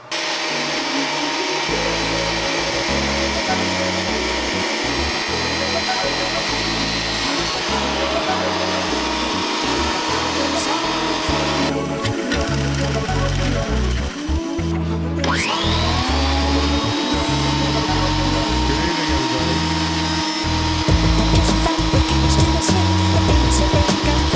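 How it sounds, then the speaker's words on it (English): A thickness planer mills strips of recycled skateboard wood with a loud, continuous roaring whine that holds steady throughout, with a brief shift in pitch as a board passes through midway and no talk. "I'm going to run them through my planer"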